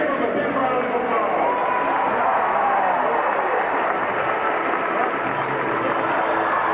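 An audience at a zoo's marine mammal show applauds, producing a dense, steady clapping wash mixed with crowd noise. A voice talks over it.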